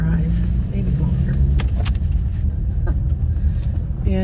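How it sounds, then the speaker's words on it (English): Car interior on the road, with a steady low engine and road rumble throughout and a few light clicks and rattles over it. "I'm heading out in the car"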